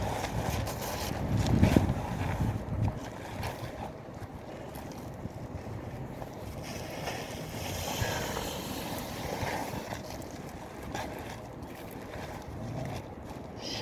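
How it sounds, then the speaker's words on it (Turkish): Steady wind buffeting the microphone outdoors, with a low rumbling roar throughout and a stronger gust near the start. "Çok rüzgar var rüzgar."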